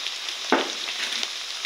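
A paste of ginger, garlic, cumin, pepper and green chili sizzles in a pan, a soft steady fry with a sharp crackle as it lands and faint scrapes afterward.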